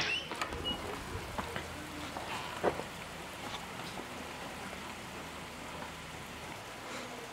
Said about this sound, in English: It's raining pretty good out.